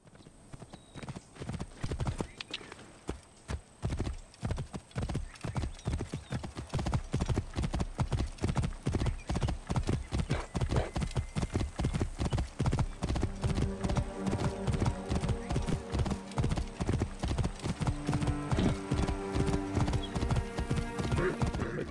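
A horse in the video game Assassin's Creed Origins trots up with rhythmic hoof clip-clops that quicken and grow louder into a steady gallop over about twenty seconds.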